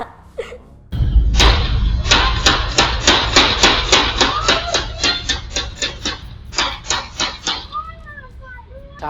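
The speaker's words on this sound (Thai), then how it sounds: "คือเสียงปืนเนี่ยฮะ" A rapid string of sharp, loud bangs from a gun repeats in quick bursts for several seconds, like automatic gunfire, with brief pauses between volleys.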